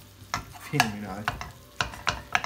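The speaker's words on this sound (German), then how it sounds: "Das Hack müssen wir jetzt einfach so lange anbraten, bis es erstens komplett durch ist und zweitens sehr krümelig ist" Wagyu mince sizzles and crackles in a frying pan while it is stirred and broken up, with clear scraping stir strokes over the steady frying; a person speaks briefly.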